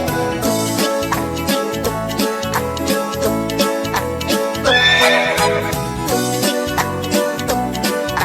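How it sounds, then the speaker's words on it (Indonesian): Steady, rhythmic horse hoofbeats clip-clop alongside a loud musical backing track, and a horse's whinny rises briefly midway through. "Suara sepatu kuda."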